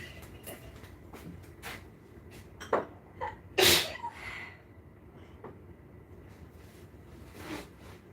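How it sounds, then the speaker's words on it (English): A single sharp sneeze bursts out near the middle, loud and brief, set among a few quieter rustles and soft handling noises in a quiet room. "Oh, my sneeze."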